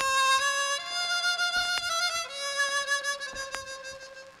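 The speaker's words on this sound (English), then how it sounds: "It sounds like this when played in the lipping position" Chromatic harmonica with vibrato, played in the lipping position: a short melodic phrase of several sustained reedy notes that change pitch in steps, close and clear, with a few soft breathy articulations and no voices.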